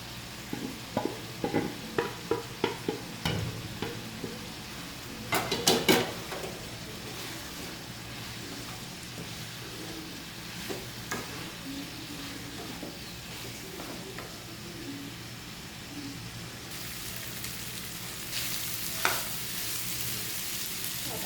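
Vegetables stir-fried in a pan for restaurant-style Chinese vegetable fried rice, with a steady sizzle and a series of sharp scraping and tossing clacks near the start and a few more later, with no talk.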